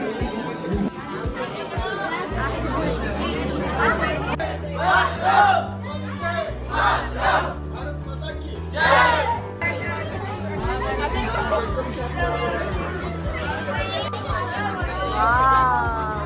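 Dense crowd chatter at Ramoji Film City, a steady babble of many voices with children among them and a few louder nearby voices rising above it.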